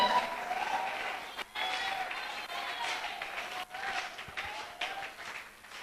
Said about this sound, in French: Accueille-le par tes acclamations